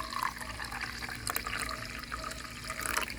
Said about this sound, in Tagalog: Tapos, bubuhos na natin dito sa ating tsaa.